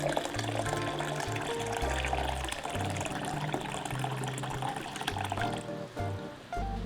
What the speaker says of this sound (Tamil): இனி நான் எடுத்து வச்சுருந்த சுகர் சிரப்பு அப்படியே ஆட் பண்ண போகிறேன்.